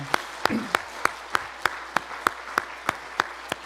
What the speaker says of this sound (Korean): 우리 안수 집사님들 인사할 때 다시 한번 박수로 축복하시겠습니다